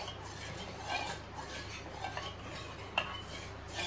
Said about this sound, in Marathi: पूर्ण असा ढवळून घ्यायचा